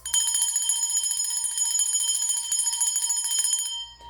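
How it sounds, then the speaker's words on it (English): A small bell rings continuously in a rapid, bright trill for about four seconds, close and clear, then stops abruptly with no voices. "I am of course going to ring that bell now."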